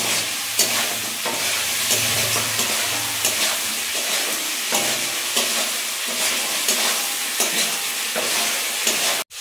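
Crabs fry in hot oil in a pan and are stirred repeatedly, so a constant close sizzle is broken by scraping, clattering strokes of the utensil, with no speech.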